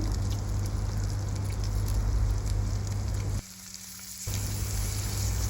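Beef pieces fry in hot oil with a dense, close, continuous sizzle and crackle, dipping briefly quieter for a moment before resuming as the pieces are stirred.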